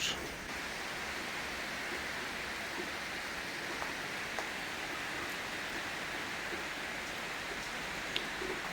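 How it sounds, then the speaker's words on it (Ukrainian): Dense, steady rainfall hisses without a break, a loud, even wash of drops that fills the whole stretch. "До нас прийшов великий дощ"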